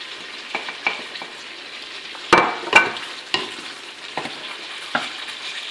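Lamb tajine with crushed parsley and spices being stirred and fried in a pan, giving a steady close sizzle broken by several sharp scrapes and clatters of the utensil, two louder knocks near the middle.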